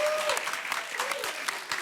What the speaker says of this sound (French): on a le public qui applaudit